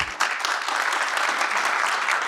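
A crowd at a political event applauds steadily, dense sustained clapping from many hands filling the space with no voices standing out.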